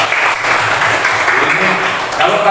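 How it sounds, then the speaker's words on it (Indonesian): Classroom children clap together in a sustained burst of applause, dense and fairly loud throughout, with a few voices mixed in. "Tepuk tangan dulu untuk kita semua."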